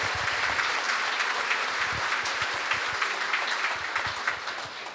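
Audience applause at a city State of the City event, steady crowd clapping with scattered distinct close claps, moderately loud and continuous for several seconds.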